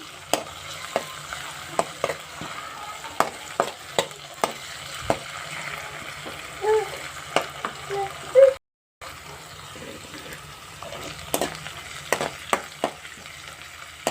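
Ginger garlic paste fries in a pan with a soft, continuous sizzle, punctuated by frequent sharp clicks and scrapes of stirring and one brief silent gap.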